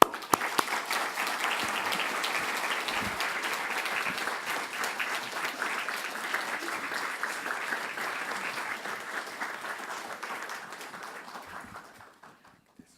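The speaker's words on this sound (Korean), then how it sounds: "우리가 큰 박수로 맞았으면 합니다" A church congregation applauds the speakers at Sunday worship. The applause is dense and sustained for about twelve seconds, holding steady before fading away at the end.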